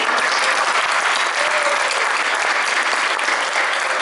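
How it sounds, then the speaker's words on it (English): Steady, dense audience applause fills a school band's final concert and awards ceremony at a high school, loud and continuous for the whole stretch with no voices over it. "So a big round of applause to you as well."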